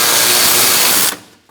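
Power tool whirring steadily for about a second, loud and close, while a bolt is removed from the front of a 2002–2006 Honda CR-V during AC condenser fan replacement, then stopping abruptly with a faint click afterward.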